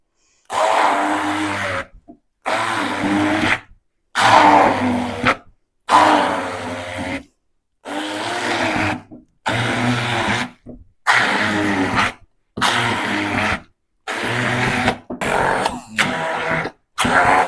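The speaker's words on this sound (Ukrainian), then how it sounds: "І все це блендером переб'ю до однорідної консистенції." A blender whirs loudly in about a dozen short pulses, each burst grinding for a second or so and separated by brief pauses, blending a sweet cheese and berry pastry filling.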